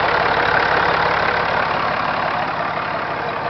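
An Allis-Chalmers 7060 tractor engine idles steadily after warming up, a loud, close, continuous diesel rumble with a faint knocking texture and no talk.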